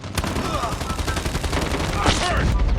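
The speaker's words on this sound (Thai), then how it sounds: "ใครยิงวะ" Rapid gunfire from an HG40 gun in the mobile shooter game Call of Duty Mobile, loud and continuous throughout with dense crackling bursts, one sharp report near the start and a louder stretch toward the end.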